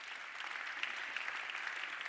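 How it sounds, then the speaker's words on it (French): A hall audience of about 500 people applauds steadily at a moderate distance, a dense, even patter of clapping with a few sharper claps standing out, and no talking. "Donc vous pouvez vous applaudir déjà les 500 dans la salle."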